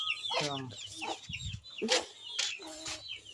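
Hens cluck and squawk in several short bursts on a farm, close and fairly clear, with a low rumble and faint background murmur beneath.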